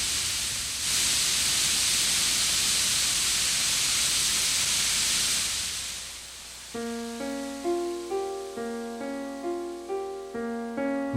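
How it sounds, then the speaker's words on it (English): Steam hisses from geothermal vents in Yellowstone in winter, a steady, loud broadband rush lasting about six seconds before fading as music with plucked notes takes over. "Buffalo are sometimes kept from freezing by steam seeping from below the Earth's crust."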